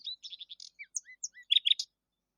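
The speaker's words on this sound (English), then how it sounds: "said the Nightingale, and began to sing most delightfully" Rapid, high-pitched nightingale song with quick chirps and trills, ending in a brighter burst of notes, then silence.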